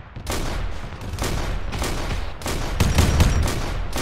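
Sustained bursts of rifle fire and grenade-launcher blasts in the military shooter ARMA 3, with repeated loud volleys in a dense, uneven rhythm and no talk.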